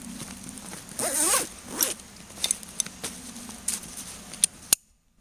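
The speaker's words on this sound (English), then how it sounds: "zip all this up." A backpack being zipped shut with a close, loud rasping zipper pull, followed by scattered small clicks and rustles of handling the pack before it falls quiet.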